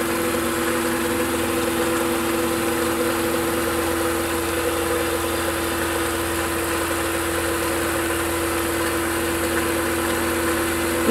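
Quilting sewing machine stitching freehand, a steady unbroken mechanical hum and whir running throughout at even loudness.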